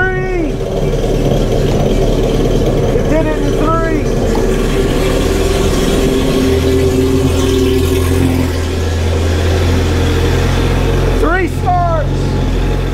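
A supercharged mini jet boat engine fires up and keeps running, a loud continuous mechanical drone with shifting pitch across the whole stretch, while people talk over it.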